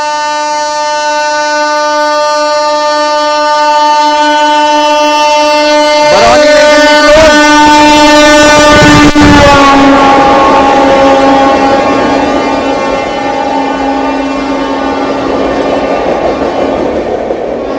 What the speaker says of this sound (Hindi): बढ़िया रफ्तार में बरौनी नई दिल्ली क्लोन